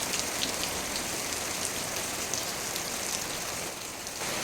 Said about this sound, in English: These days, it rains almost every day, with short breaks in between.